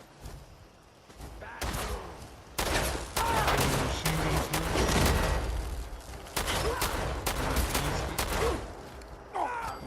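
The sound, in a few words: raiders' gunfire in the video game Fallout 4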